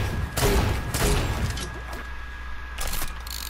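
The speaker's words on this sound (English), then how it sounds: "I like the way this gun shoots." Gunfire from a gun in a video game: a few loud sharp bursts of shots in quick clusters with booming low end, separated by short gaps, no talk.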